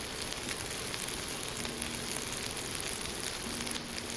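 Potato strips and garlic bolts stir-fry in a hot pan with a loud, dense, continuous sizzle that holds steady throughout.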